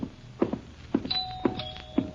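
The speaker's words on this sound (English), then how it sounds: "I answered the doorbell, madam." A doorbell rings in a short sequence of four evenly spaced chimes, each with a thud-like onset and a lingering tone, clear and close, in an old-time radio drama.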